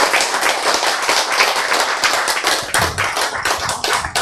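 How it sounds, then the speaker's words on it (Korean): An audience at a health lecture claps loudly and densely, a steady wash of many hands close by with no talking. "박수"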